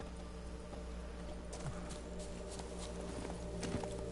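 Roach, a horse in The Witcher 3, running in a steady clip-clop of hoofbeats, faint against a constant background hum of the game world.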